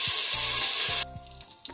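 Spices dropped into hot oil for vegetable pulao sizzle loudly and close for about a second, then cut off sharply, leaving faint clinks and low cooking sounds.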